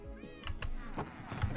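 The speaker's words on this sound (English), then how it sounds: "We've got quite a few cats down here now." Several cats meowing in the Minecraft video game, a few short mews close by, spread over a brief moment with faint game ambience beneath.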